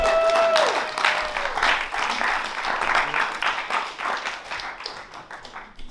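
Audience applause at a college open mic night, many hands clapping steadily and fairly loudly for several seconds, fading slightly toward the end with a few scattered cheers.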